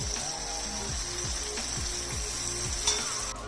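Fried potatoes roasting in masala on a low flame for an egg and potato curry, giving a steady, soft sizzle with a faint low rhythmic pulsing beneath it.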